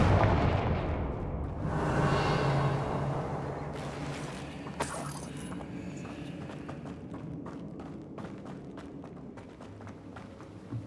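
A Confringo fire spell explosion in the video game Hogwarts Legacy: a heavy booming burst at the start, then a rumbling tail and scattered sharp impacts and crackles amid ongoing battle noise.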